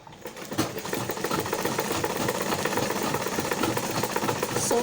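Sewing machine stitching fabric for a cowl neckline asymmetric drape dress with a 1 inch seam allowance, a fast steady close mechanical whir and needle rattle running without pause.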